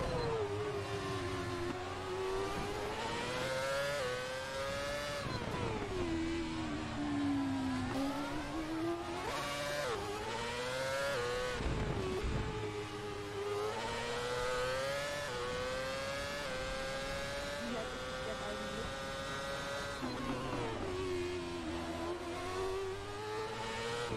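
Car engine in the racing game Assetto Corsa, revving up and down continuously with rising and falling whine as gears shift, loud and steady for the whole stretch with no talk over it.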